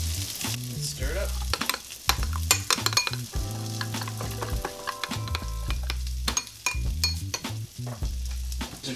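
Burger ingredients frying in a pan are stirred with a utensil, producing a steady sizzle with repeated scraping and clicking strokes. Low tonal hum and music-like tones run underneath, and no one speaks.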